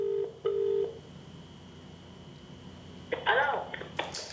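A telephone number is dialed on a phone, giving a couple of short beeping key tones near the start. A quiet background follows, then a voice speaks near the end.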